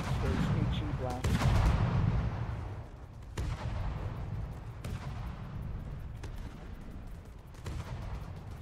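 High-explosive shells burst against heavily armored vehicles in a video game battle, a loud rumbling blast followed by several sharp booms spaced a second or so apart, with a voice speaking over the din.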